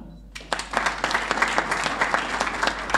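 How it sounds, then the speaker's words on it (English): A burst of audience applause at a sports innovation summit held during the 2018 World Cup: dense rapid clapping from a crowd, steady and moderately loud for a few seconds. "Good applause, it's always helpful in the morning"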